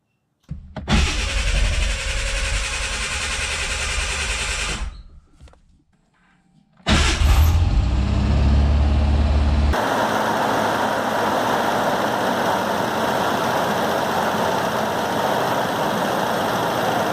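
A 1980s-era Ford Bronco II engine cranks over, catches loudly and settles into a rough, steady idle close by, after a short pause and a second starting attempt, with no talk.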